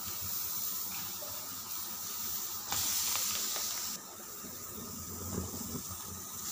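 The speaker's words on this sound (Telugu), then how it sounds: "కడిగి పెట్టుకున్న పచ్చిమిరకాయలు వేసుకోవాలి" Washed green chilies fry in hot oil in a pan, giving a steady close hiss and sizzle that flares into a brighter, louder spatter for about a second before settling back, with no talking.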